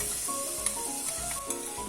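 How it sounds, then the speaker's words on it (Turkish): Chopped onions sizzle steadily in a hot pan for green lentil and noodle soup, with soft stirring scrapes now and then, close and moderately quiet. "Soğanlar pembeleşinceye kadar kavuruyoruz."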